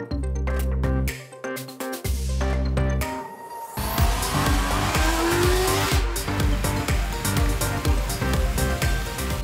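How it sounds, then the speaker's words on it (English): A 2021 Honda CB650R street naked motorcycle with an inline four-cylinder engine runs loud and close: a strong droning engine tone cuts out briefly, then returns as a busy revving roar with a rising pitch sweep. "This is the Honda CB650R. It's a street naked motorcycle"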